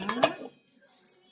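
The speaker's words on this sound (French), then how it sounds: "Je mélange. Je mélange bien." A utensil scrapes and clinks against a bowl as filling with cheese is mixed for bacon, fig and goat cheese rolls. Two quick close clinks are followed by quieter scraping.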